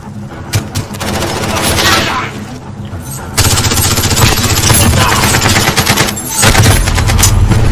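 Gunfire in the video game Call of Duty: Modern Warfare, loud and continuous automatic bursts with rapid rattling shots and heavy low rumble, intensifying midway and staying dense to the end.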